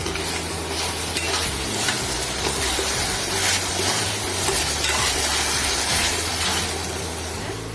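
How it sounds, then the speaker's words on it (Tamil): Chicken pieces stirred quickly into a hot sauce for Korean fried chicken (dakgangjeong), a loud, close, continuous sizzle with steady mixing scrapes and no voices. "ஆட் பண்ணிவிட்டு சீக்கிரமாகவே நீங்கள் இதை மிக்ஸ் பண்ணிக்கோங்க"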